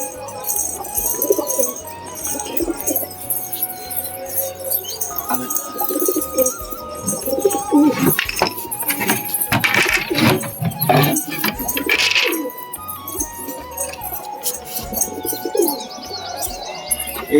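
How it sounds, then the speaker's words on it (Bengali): Deshi Giribaz pigeons of the Murshidabadi line coo repeatedly close by, with chirps and scattered clinks and rustles throughout. "এই দুটো দেশি গিরিবাজ লাইনের পায়রা আছে, মুর্শিদাবাদী লাইনের গিরিবাজ পায়রা"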